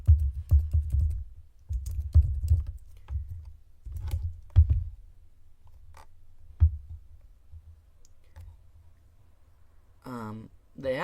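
Bursts of clicky computer keyboard typing, close and irregular, with short flurries of keystrokes separated by pauses, and a brief voice near the end.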